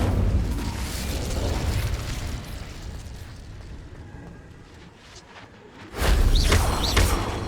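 In Hogwarts Legacy, an Incendio fire spell flares up: a roaring, crackling rush of flame sustains, fades, then bursts again loudly in a sudden fiery blast.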